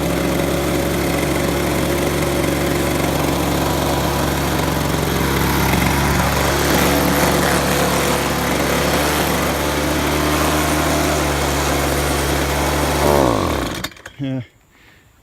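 A nearby gas-powered leaf blower engine runs loud and steady for several seconds, then winds down and cuts off at the end.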